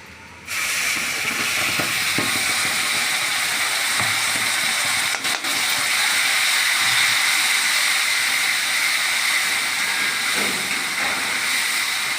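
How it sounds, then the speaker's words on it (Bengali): Centella leaf paste, ground with black cumin and garlic, goes into a pan of garlic frying until red, and a loud, steady sizzle and hiss carries on without a break for the full length. "রসুনটা লাল লাল হয়ে গেছে, এবার আমি এই পেস্টটা ঢেলে দেবো।"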